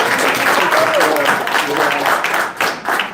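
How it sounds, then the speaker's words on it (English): Applause at an after-school program press conference in a school, with a crowd clapping for a principal as mixed voices carry through the room and the clapping thins out toward the end. "another round of applause for your principal."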